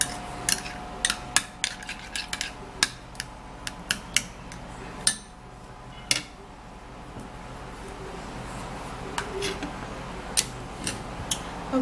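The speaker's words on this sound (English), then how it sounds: "I'm mixing everything well properly" A spoon scrapes and taps against a bowl while aloe vera gel and vaseline are mixed together, irregular sharp clicks and clinks over a soft, steady background for several seconds.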